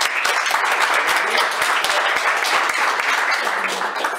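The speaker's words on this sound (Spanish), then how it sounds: "Un aplauso para María Elena" Audience applause at the Tomero Almacén market event, honoring a vendor of homemade tomato preserves: dense, continuous clapping from many hands at steady volume, with occasional sharper individual claps, lasting throughout.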